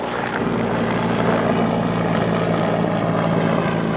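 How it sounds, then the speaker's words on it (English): An army helicopter's rotor thumps steadily overhead, loud and close, with a constant engine roar throughout and no voices. "Yeah, it's an army helicopter."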